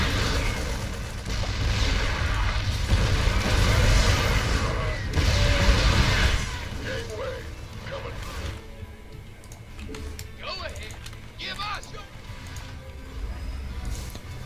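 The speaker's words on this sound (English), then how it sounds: "Set up the siege tanks and let them do all the work." Siege tanks fire artillery in a real-time strategy video game, with heavy, dense booming blasts over a constant battle roar that ease off partway through.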